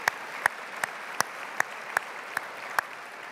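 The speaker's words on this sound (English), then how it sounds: "Let's give all of our Business Executive of the Year honorees a round of applause." An audience at a Business Executive of the Year awards ceremony claps in a steady, evenly spaced rhythm, each clap distinct over a soft background hiss.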